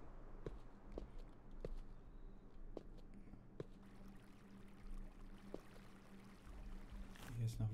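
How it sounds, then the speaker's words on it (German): Water trickles and flows faintly in the video game Creativerse, a quiet steady stream with occasional soft footstep-like taps over a low hum. "Hier ist noch Wasser irgendwo."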